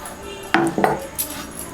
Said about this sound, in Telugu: ఇలా రెండు మూలల్ని కట్ చేసుకుని